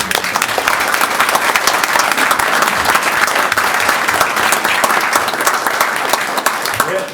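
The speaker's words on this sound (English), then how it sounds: "let's give them a round of applause" Steady, dense applause from an audience at a city council meeting, loud and sustained without a break, with little else audible.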